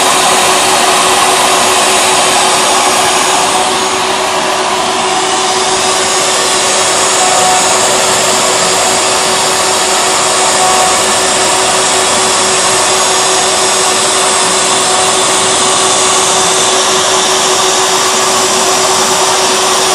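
A CNC router carves an Aztec calendar design, giving a loud, steady high-pitched whine with broadband cutting noise that holds unbroken throughout, no voices present.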